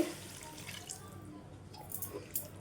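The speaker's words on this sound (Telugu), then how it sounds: "ఇదిగోండి కొద్దిగా వాటర్ వేసుకుంది" Water pours quietly into a pan of tomato and bean curry, a soft, steady trickle with a few small splashes.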